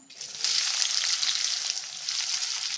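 Chopped onions and cumin seeds dropped into hot oil in a pan burst into a loud, close, steady sizzle that keeps crackling evenly without a break, with no one talking.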